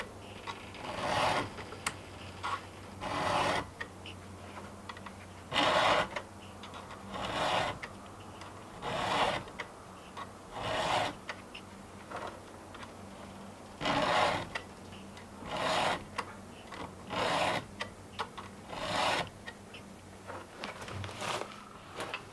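A hand file rasps across chainsaw chain teeth in repeated strokes, roughly a dozen bursts with short pauses between, close and clear with no talk.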